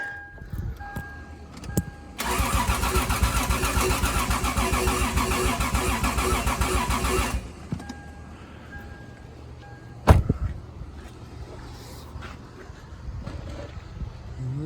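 A car engine with a fuel system being primed cranks over on the starter for about five seconds, a loud, fast rhythmic churning that does not catch, then stops, leaving faint clicks and handling noises.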